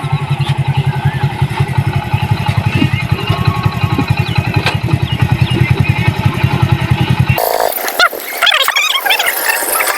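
A motorcycle rides onto a river ferry boat, its engine throbbing in a fast, steady beat close up before cutting off abruptly, followed by scattered clatter and knocks on the deck.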